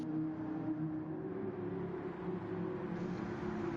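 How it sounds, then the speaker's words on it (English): A racing pace car with a titanium exhaust is heard in a racing game session, a steady low engine drone and rumble holding at a fairly quiet, even level throughout. "Oh, the pace car. Sounds nice."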